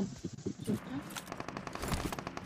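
Gunfire in the mobile battle game BGMI crackles in rapid automatic bursts at moderate distance, rattling under a player's voice talking throughout.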